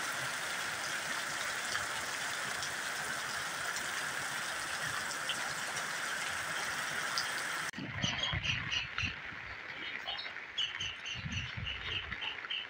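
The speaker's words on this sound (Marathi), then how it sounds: "सारखाच पाऊस चालू आहे." Steady unseasonal rain falls continuously during harvest season, a dense even hiss that shifts partway through to a rougher, more uneven patter with low thumps.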